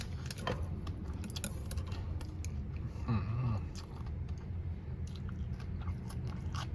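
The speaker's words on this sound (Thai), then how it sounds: "ผักกรุบกรอบอร่อยมาก" Close, crisp crunching of crunchy vegetables eaten with chewy jade noodles and mixed meatballs, with irregular bites and chewing running throughout and no talk.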